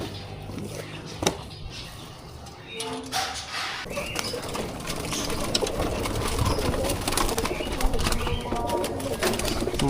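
Racing pigeons coo in a loft, low soft calls under a busy, noisy background with speech nearby throughout.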